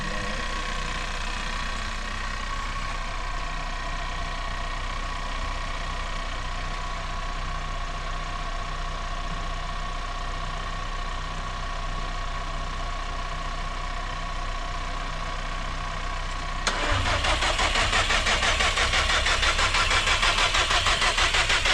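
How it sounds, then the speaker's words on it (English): A turbocharged car engine in the middle of a build is cranked over after crank position sensor work, giving a steady mechanical whir that jumps abruptly louder and harsher near the end, with no voices. "just gonna crank it for about maybe three or four times"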